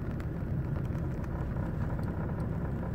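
A steady low droning rumble from inside a 2006 Mercedes C200 CDI at low engine speed, with an even vibrating engine hum throughout and no talking.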